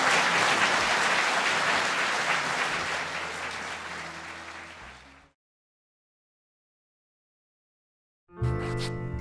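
Audience applause for panellists at the close of a public talk session, a loud steady crowd of clapping that fades out over about five seconds, then silence before another sound starts.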